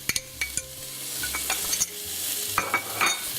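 Leeks softened for about five minutes sizzle in a pan as spices are tipped in and stirred around, with scraping utensil strokes and clinks over a steady fry, close and moderately loud.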